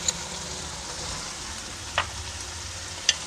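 Chicken fries in a pan for a chicken macaroni dish, a steady moderate sizzle running throughout with a couple of brief utensil clinks, no talking.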